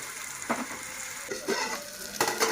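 Ginger garlic paste and chopped tomatoes fry in a pan with a soft continuous sizzle, broken by a few brief stirring scrapes and louder hisses.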